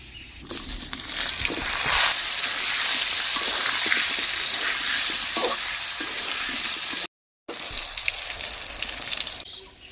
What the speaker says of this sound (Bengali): ঢেঁকি তেলে পটলগুলো লাল লাল করে ভেজে নেব